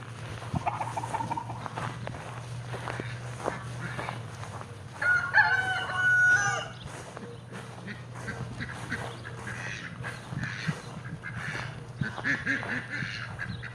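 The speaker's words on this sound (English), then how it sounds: "we bring the chickens and ducks in here to work on the compost pile" A rooster crows amid a flock of ducks quacking and chickens clucking nearby at a compost pile, with a steady low hum underneath.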